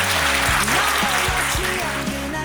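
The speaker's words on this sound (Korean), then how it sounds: "하나 된두 사람에게 뜨거운 박수로 함께해 주시기 바랍니다." Wedding guests applaud at a ceremony in a Yeouido wedding hall, a dense clapping wash under loud music with sustained tones and gliding notes filling the whole stretch.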